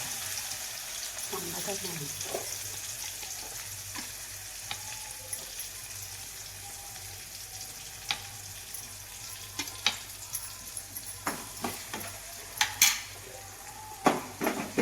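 Chopped onion fries in oil in a pan for a Konkan-style wet cashew vegetable dish. A steady close sizzle runs throughout, with sharper clicks and scrapes of stirring growing more frequent toward the end.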